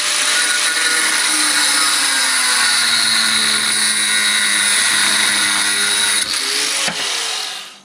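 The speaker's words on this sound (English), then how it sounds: "but that takes effort, so I'm going to use an angle grinder." An angle grinder cuts metal plate into engine shims, a loud, continuous high-pitched whine with a harsh metallic grinding edge that holds steady for several seconds before winding down.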